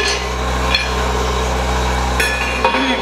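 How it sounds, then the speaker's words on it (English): A wrench set down on the end of a running vibratory feeder bowl gives a few faint metallic clinks over the loud, steady hum of the vibrating unit. "I'm just going to set my wrench on the end of the unit."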